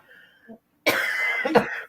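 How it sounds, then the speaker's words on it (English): A single harsh cough bursts out close by after a brief faint sound, trailing into a short throaty rasp. "now I got a cough"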